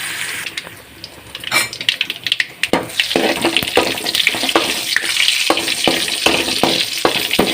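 Garlic tempering in hot oil sizzles and crackles loudly, with sharp spitting pops and stirring scrapes over a steady frying hiss.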